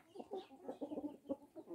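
Wyandotte chickens, a breed brought from a poultry show in Poland, give a run of soft, close clucks in short irregular bursts, with no talk over them.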